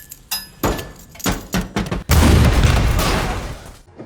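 A grenade blast in an action film: several sharp thuds and impacts, then a loud, sustained roaring explosion that rumbles and slowly fades.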